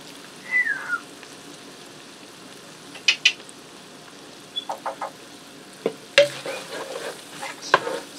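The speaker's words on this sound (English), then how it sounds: "You just want to stir that in and combine it." Italian seasoning stirred into a casserole sauce in a pan, with soft sizzling throughout and scattered scraping strokes and clinks of the utensil, close and fairly clear.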